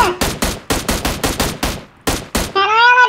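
Rapid bursts of automatic rifle fire in the game PUBG Mobile, loud and close, a rhythmic string of shots with a short pause before a final pair, followed by a tonal electronic game sound.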